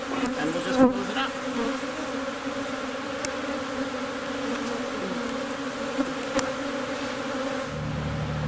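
Honey bees swarm around an opened beehive being cleaned out, their steady droning buzz loud and close throughout, with individual bees passing near now and then.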